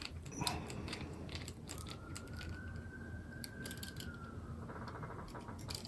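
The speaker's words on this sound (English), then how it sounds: "Just going to take that, screw it in a little bit." A screw is driven in a short way and then backed out on a low-cost bimanual robot setup, with faint mechanical clicks and a thin whirring tone over steady background hum, close but quiet.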